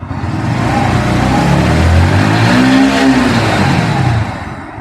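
A Bajaj Pulsar NS125 motorcycle engine revs up to about 5000 rpm, heard from the rider's seat. The loud, steady rise holds for a few seconds, then settles back down.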